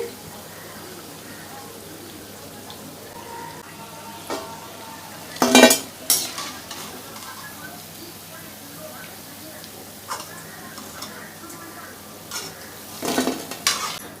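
Semolina and potato snacks fry in oil with a low, steady sizzle, broken by a few sharp clatters of a utensil against the pan, while a voice speaks at times.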